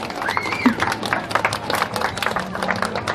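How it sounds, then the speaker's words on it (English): An audience applauds for judges and contestants at a community event, scattered clapping and crowd noise mixed with a few voices in a short burst. "Can we have one last round of applause for all of our judges and our contestants who did a great job today?"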